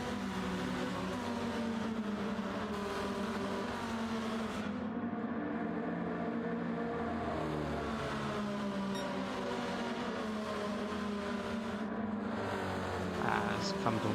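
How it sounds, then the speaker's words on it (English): A Lamborghini Urus safety car drives laps in a sim racing game at Catalunya, its engine a steady loud drone with shifting pitch that runs unbroken for the whole stretch, with commentary talk layered over it. "Let's go back to our safety car driver and watch the Urus come around the last"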